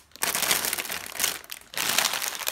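Plastic bags crinkle and rustle loudly up close as they are handled and pulled out of a box, in several bursts separated by brief pauses.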